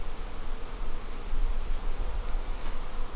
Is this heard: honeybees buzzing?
yes